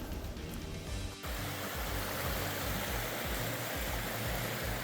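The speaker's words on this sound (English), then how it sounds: "we're back at the little creek" Sentry Creek, a small mountain creek, rushes in a steady broadband wash that swells loud and continuous after a brief quieter start, with low rumbling underneath.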